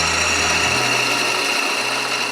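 A wood lathe turning a fridge magnet blank as the turning tool cuts into the wood, a loud continuous whir with a low hum that drops in pitch partway through.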